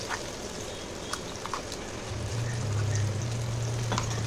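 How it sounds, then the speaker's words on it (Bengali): Green chilli and ginger-garlic paste frying with tomato in a pan over low gas, giving a continuous close sizzle with occasional pops and a steadier, louder frying hiss toward the end. "দিয়ে দিচ্ছি কাঁচা লঙ্কা আর আদা রসুনের পেস্ট।"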